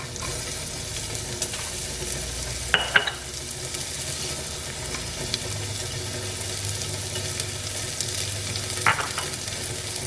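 Onions sauté in a teaspoon of oil in a pan with a continuous soft sizzle, broken by a couple of brief scraping stirs, heard close up and with no talking.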